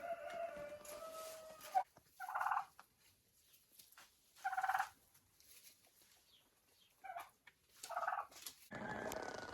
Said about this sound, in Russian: Все, индюки полностью укомплектованы